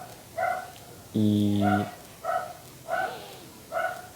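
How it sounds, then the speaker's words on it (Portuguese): A dog barks several times in short separate bursts, fairly close and loud, while someone talks in between; a brief electronic chime-like tone also sounds. "eu não consigo me concentrar porque o cachorro tá latindo."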